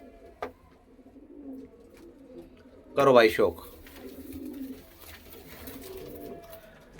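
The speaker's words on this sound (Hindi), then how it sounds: "ये पामुच लालचीना, सफ़ेद आंखों का कबूतर है" White-eyed Lal Cheena pigeon with long feathers gives a short burst of cooing, close and fairly loud, amid low murmuring and someone talking nearby.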